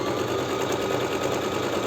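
A Singer Start 1304 sewing machine stitching steadily, a close, even mechanical whir with a rapid needle rhythm running unbroken for a couple of seconds.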